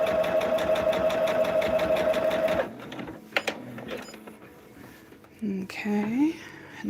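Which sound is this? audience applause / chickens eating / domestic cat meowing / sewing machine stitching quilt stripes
sewing machine stitching quilt stripes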